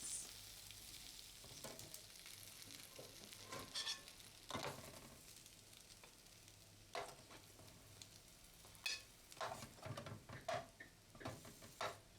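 Ground meat browning in a pan for spaghetti bolognese, with a steady close sizzle and frying crackle throughout and occasional stirring scrapes and clicks, no talking.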